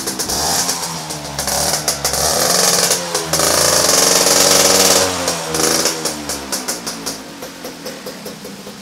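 A 2001 motorcycle engine fitted with a new gear set runs loud and close, chugging unevenly before climbing into a sustained rev, then dropping back to a throbbing, pulsing idle.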